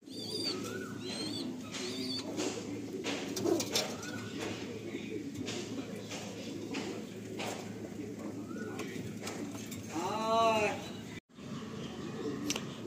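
Pigeons in a loft holding a good-quality pair, soft repeated cooing and occasional chirps close by, with a person talking over the birds throughout.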